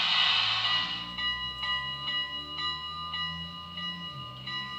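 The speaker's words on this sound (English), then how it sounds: "There's the bell." A model Union Pacific 4-8-2 Mountain steam locomotive's sound decoder rings its bell: after a burst of hiss, evenly spaced metallic dings repeat about twice a second over a low hum.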